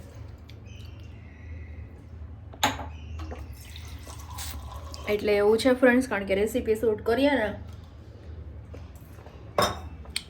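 Dishes are washed by hand under a running tap, with dripping water and clinks of utensils against steel pots; someone talks over the washing partway through.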